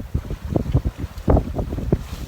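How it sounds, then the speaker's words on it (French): Wind roars over a sailboat moving fast at sea, a steady gusty rush with heavy buffeting against the microphone and no talking. "le vent pique un peu, donc on fonce, on fait du sineux, c'est génial."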